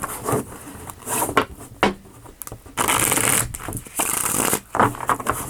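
Tarot cards are shuffled close up, with repeated riffling bursts and soft scraping strokes, without speech.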